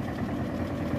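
An old Eicher tractor hauling a load of about 65 quintals of sugarcane, its engine giving a continuous, loud, low chugging rumble with no breaks.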